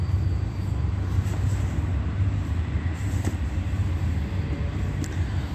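A train passes with a steady, heavy low rumble that holds at an even level and drowns out other noise, with faint clicks over it and no talking.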